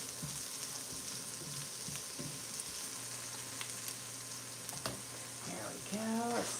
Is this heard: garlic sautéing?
yes